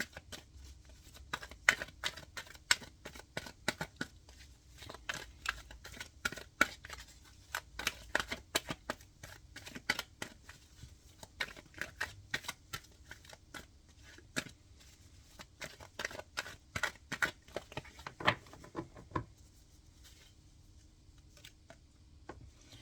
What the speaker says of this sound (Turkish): şuraya bir kart çekmek istiyorum ben